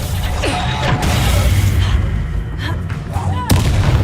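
Spell blasts boom in the Hogwarts Legacy video game, a dense run of loud impacts and whooshes over continuous rumbling combat noise.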